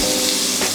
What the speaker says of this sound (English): Just get that nice and sizzling.